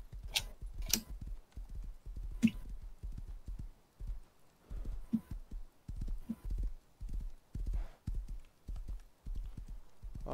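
Horse hooves clip-clopping in the video game Rust as the horse runs across an open field, a steady close rhythmic gallop, quiet and alone.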